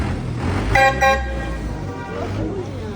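Air horns on buses and trucks blare in congested street traffic in Cusco, Peru: two close, loud honks in quick succession, then a fainter horn later over a bed of engine rumble.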